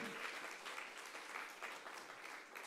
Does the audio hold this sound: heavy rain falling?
no